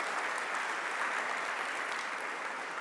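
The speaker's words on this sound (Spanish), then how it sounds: "Dele un aplauso al Señor" A church congregation claps together at a sermon on Jesus calming the storms, a dense, even wash of applause held steadily from start to finish at moderate distance.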